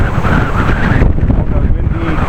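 Strong, steady wind roaring against the microphone on a blustery Dutch morning outdoors, a dense low rumble throughout with a brief easing of the gusting hiss midway.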